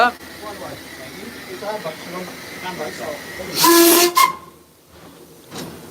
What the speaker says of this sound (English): actually you've got the injectors running at the moment, haven't you?